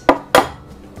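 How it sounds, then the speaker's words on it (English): Two quick, sharp taps of eggs cracked against a bowl while baking Nutella-stuffed chocolate chip cookies, close and distinct, followed by a faint soft trickle. "I want to see how you crack them."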